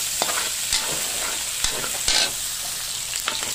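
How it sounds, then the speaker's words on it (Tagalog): Shrimp browning in a hot pan for lumpiang sariwa, a steady loud sizzle broken by a few sharp scrapes of stirring, with no voices. "Ngayon nagbabrown na yung ating hipon."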